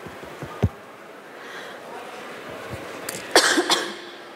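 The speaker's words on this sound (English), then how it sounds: "I have a really bad cough." Coughs from a presenter at a conference session, a couple of short bursts early and a louder cluster near the end, close to the microphone in a quiet room.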